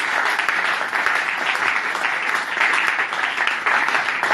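A church congregation claps in a dense, continuous wash of loud applause that holds steady the whole time.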